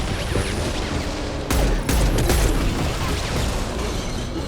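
Gunfire in the Mass Effect 2 video game, rapid bursts of shots with mechanical ratcheting, loud and continuous with a denser volley midway.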